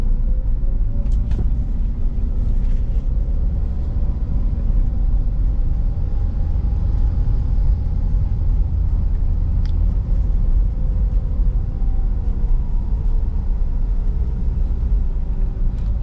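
A Toyota Avanza rolls slowly in second gear over speed bumps, giving a steady low engine and road rumble heard from inside the cabin with a few faint knocks and no talking.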